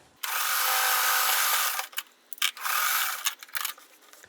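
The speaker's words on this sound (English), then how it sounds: "So let's just put this down and sew." Sewing machine stitching denim scraps cut from old jeans for a crumb quilt block: a loud, close, continuous whirring run of about a second and a half, followed by several short stop-start bursts.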